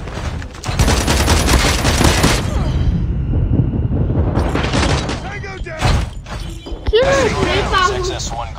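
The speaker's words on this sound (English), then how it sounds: "It exploded." An explosion and gunfire in Call of Duty, dense loud bursts and booms filling the first seconds with rattling shots continuing, while players shout excitedly over the game noise.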